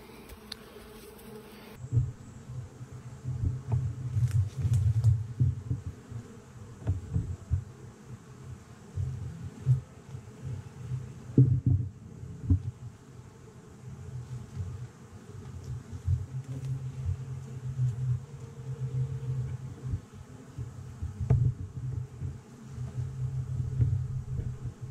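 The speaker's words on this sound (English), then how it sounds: "There you go, so the first bees to move into their new box." A caught bee swarm settles into a new hive box with drawn comb, giving a continuous close, droning buzz that rises and falls for the whole stretch, with occasional soft wooden knocks from frames being handled.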